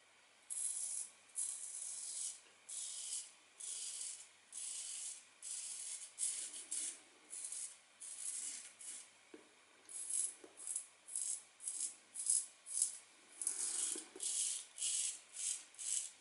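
Rhythmic scraping strokes of a razor through about a week's stubble, close and crisp, repeating steadily in short bursts with brief pauses between.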